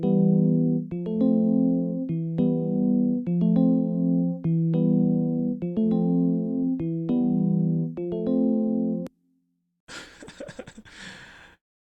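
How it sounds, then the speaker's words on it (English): Two layered pianos play the same looping melody together, full and loud in a steady repeating phrase, then stop abruptly before a short burst of breathy, laughing vocal noise at the end. "both the pianos sound like this."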